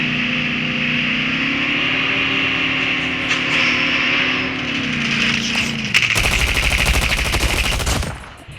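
Rapid bursts of gunfire from a gun in the Call of Duty Mobile video game erupt near the end, following a stretch of steady droning game sound.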